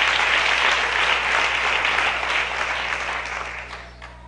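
Strong applause from a crowd at a live Resurrection celebration in Tzucubal, Nahualá: thick, continuous clapping that stays loud, then eases slightly toward the end.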